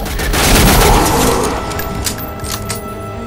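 Sawn-off shotgun blasts in the Darkness II video game, a dense burst of loud booming shots in quick succession, trailing off into a few sharper cracks and noisy rumble.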